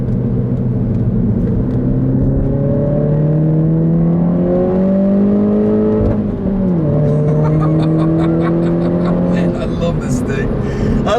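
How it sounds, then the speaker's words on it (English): A 2014 Mini Cooper S accelerating hard, its engine drone rising in pitch through the gears, then dipping at a shift before climbing again, with faint flutter and crackle near the end under the loud engine note. "I love that crackle in the exhaust, man, on upshifts."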